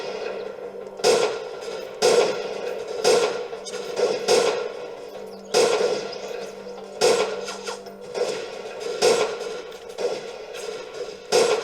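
Gunfire in a battle in Freeman: Guerrilla Warfare, as sharp single reports at a roughly steady one-per-second rhythm over a constant low hum of combat.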